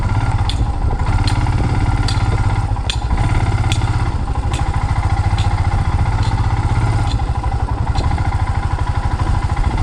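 Motorcycle engine laboring loudly and steadily up an old, rough mountain road in North Sikkim, close and continuous, with intermittent clattering knocks from the bike over the uneven surface.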